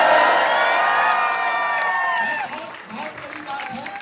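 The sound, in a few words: audience applauding and cheering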